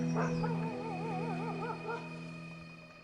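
Dogs at a Himalayan Gaddi shepherd camp yelp and howl from up the slope, a wavering cry that fades out, heard faint and far off over a low steady drone.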